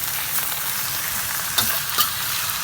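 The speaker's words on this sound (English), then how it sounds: "Basically, we're just searing it." Bok choy sears in a hot pan with a steady bright sizzle and crackle, a couple of sharper spits and stirring scrapes breaking through near the middle and end; no talking.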